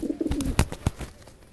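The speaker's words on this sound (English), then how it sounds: "how'd you get a bird in here?" A bird coos like a pigeon indoors, a short close series of soft rhythmic coos that tapers off.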